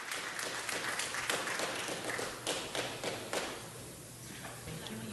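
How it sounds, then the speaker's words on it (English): A round of applause fills a city council chamber, many hands clapping at moderate distance with scattered sharper claps, swelling and then thinning toward the end. "Let's give them a round of applause."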